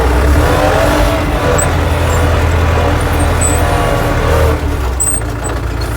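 A tractor engine revs and accelerates during cabbage planting with a seedling transplanter, a loud steady low rumble that continues throughout with no talk.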